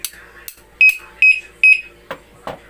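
A motorcycle disc lock alarm gives three loud, sharp electronic warning chirps in an even rhythm, close and piercing, with a couple of clicks and soft clatter afterward.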